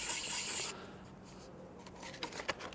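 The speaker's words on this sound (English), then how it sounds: "I'll give this my nuts a bit of a rub down." Brisk rubbing and scraping on the corroded terminal nuts of a 2006 Ford Galaxy Mk2 car battery, a steady rasping burst at first that drops away, followed by scattered lighter scuffs and taps.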